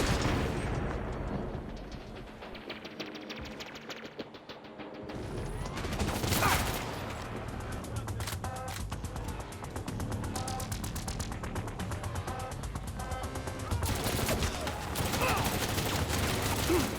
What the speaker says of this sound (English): the undermount shotgun is neat, but you don't really get that much ammo out of it